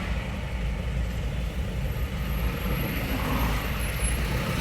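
Trucks sit in a traffic jam on the Karnala ghat road, giving a steady, continuous low engine rumble and idling drone with a faint high whine above it and no talking.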